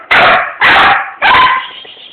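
A German Shepherd mix dog lets out three loud, close barks in quick succession, each sharp and evenly spaced with no talk over them.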